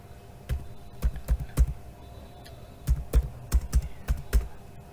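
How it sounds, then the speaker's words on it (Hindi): Sentence typed on a computer keyboard, heard as bursts of crisp, close keystrokes in two quick clusters with a pause between, no talking. "आप यहां कोई सेंटेंस लिखते हैं"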